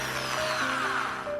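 An electric drill plugged into a homemade current-monitoring socket runs continuously with a steady, whining motor hum and no breaks, alone and close.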